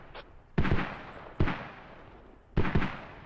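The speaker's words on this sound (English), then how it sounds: "And mortars are already landing." In a war video game, mortar shells land and explode: three heavy, booming detonations burst out at irregular intervals, each with a sharp crack and a rumbling tail. A faint pop comes just before the first.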